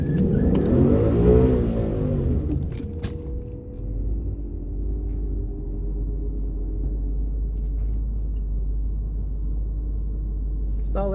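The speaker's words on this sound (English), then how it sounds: "But one more pass just to fuck around and we'll see what she can do." A red 2015 Ford Mustang with a naturally aspirated engine launches hard down a drag strip, its engine revving loud and rising in a strong burst, then settling into a sustained heavy rumble as it pulls away.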